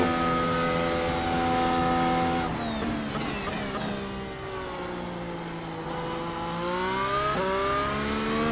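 A race car engine in the PGR video game screams at full throttle, loud and continuous, climbing through gears with sharp shifts and pitch sweeps, no talk over it.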